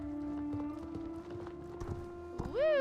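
Horse hooves clip-clop in the Star Stable video game over a steady tonal hum, with a rising whinny-like sweep toward the end.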